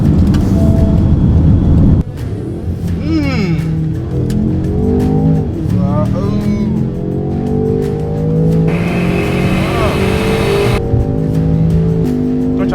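A 2024 Range Rover SV engine revving at full throttle, loud and close from the cabin, rising through the revs in sweeping climbs with gear changes, the tone shifting sharply partway through.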